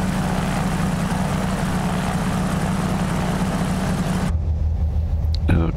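Both engines of a twin-engine aircraft idling at 1000 RPM, a steady low droning hum close by that drops sharply near the end, leaving a quieter low throb.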